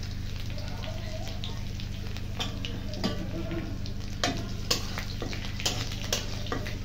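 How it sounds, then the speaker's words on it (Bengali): Garlic, green chili and grated ginger frying in a pan, a steady soft sizzle with occasional sharper crackles and spits running throughout, close by and moderately loud. "একটু ভালো করে ভেজে নেব।"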